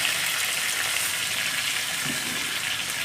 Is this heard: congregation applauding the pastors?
no